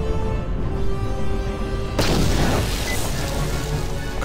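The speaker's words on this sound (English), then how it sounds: "Let's use one frag grenade to see how this works." Frag grenade explosion in Star Wars: Knights of the Old Republic, a sudden loud boom about halfway in over steady game background noise, trailing off into a rumbling decay.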